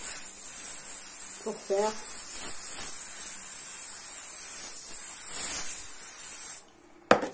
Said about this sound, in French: je mets la colle bombe et je vais mettre les petites paillettes